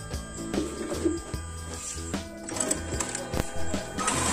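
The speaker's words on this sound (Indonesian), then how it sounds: "maka printer akan mencetak hasil kopian ID card kita" A Brother printer prints a copy of an ID card, sounding as a busy run of mechanical whirring, rhythmic clicks and ratcheting gear noises that build toward the end.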